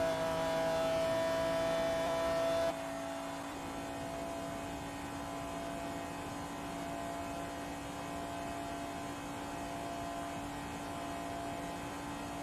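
A McLaren F1 GT engine hums steadily in the Forza Motorsport 2 video game, louder at first and then dropping to a quieter sustained drone with steady tonal whine throughout, no talk.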